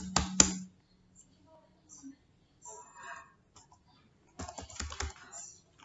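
Java code is typed on a computer keyboard in short clusters of close, crisp key clicks, with quiet gaps between them and a louder burst near the end.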